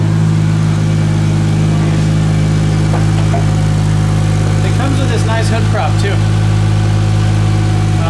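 A car engine idles steadily and smoothly in a parked Nissan S14, a constant low hum running under close conversation for the whole stretch.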